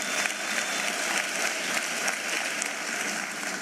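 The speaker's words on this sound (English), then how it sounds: "Let's give MTN a big hand of applause." A large hall crowd of over a thousand gives sustained applause for MTN at a matric results announcement, a thick, even roar of clapping with no break and no talk.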